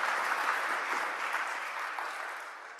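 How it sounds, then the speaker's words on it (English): An audience at a legal talk claps for the speaker Lee in a steady wash of applause that gradually thins and fades toward the end. "Let's give Lee a big round of applause again"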